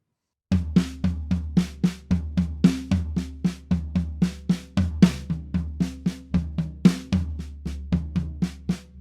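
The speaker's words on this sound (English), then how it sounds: "we play with the right hand always on the floor tom and left hand always on the snare." Drum kit sticking exercise alternating floor tom and snare strokes, right hand on the floor tom and left on the snare, in a steady run of sharp, accented hits, close and loud with no voices.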